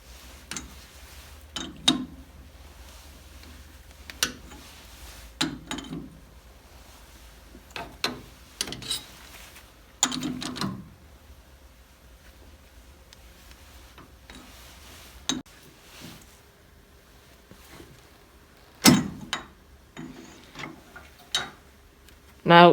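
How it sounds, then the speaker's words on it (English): A thread is tapped by hand on a small lathe as the chuck is turned: scattered short ticks, clicks and light metallic scrapes come in irregular bursts over a quiet workshop hum. "once it's started to cut the thread, we will loosen off the tailstock so that it can, as we turn the chuck, hopefully it will just put itself in and cut the thread"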